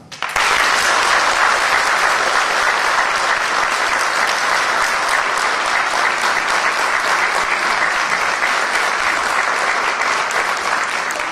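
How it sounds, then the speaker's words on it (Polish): Loud, sustained applause from a large audience at an anniversary ceremony, honouring the guest of honour, dense even clapping that starts abruptly and continues unbroken without speech. "Te oklaski mu się naprawdę należą"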